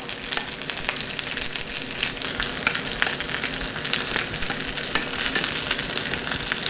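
Yam fritters frying in a shallow layer of oil, with a dense, constant crackling sizzle and frequent sharp spits and pops, close and fairly loud, with no talking.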